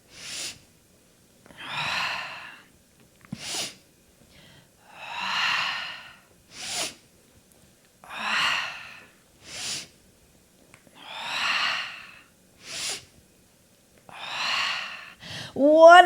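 Deep, audible breaths during a Gyrotonic hamstring exercise at home, alternating long inhales and exhales with short sharp sniffs and pauses between, close and clear.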